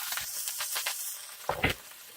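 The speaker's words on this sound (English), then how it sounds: "Ooh, you can hear it sizzling." Meatballs crackle and sizzle in a hot pan, a soft continuous hiss with a brief louder spurt of popping near the end.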